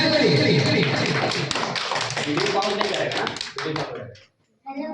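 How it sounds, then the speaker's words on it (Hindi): An audience at a Sunday performance class claps loudly in a brisk burst of distinct hand claps mixed with some voices, then it thins out and stops before a short silence and a final sound. "ताली बजाएं।"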